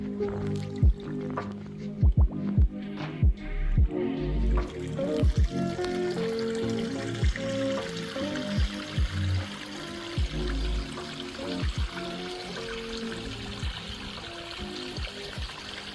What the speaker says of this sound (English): Waterfall sounds fantastic.